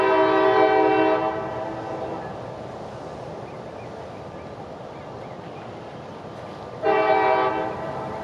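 A light engine locomotive rolls past signals at a Florida rail location, its horn blaring loud and near for about a second, then a long steady rumble of the passing engine before a second horn blast sounds near the end.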